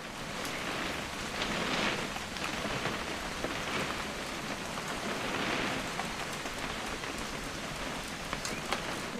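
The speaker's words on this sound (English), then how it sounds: "It's gonna rain the whole weekend, isn't it?" Steady rain patters down continuously in What Remains of Edith Finch, a dense hiss of drops with gentle swells in intensity and no voices.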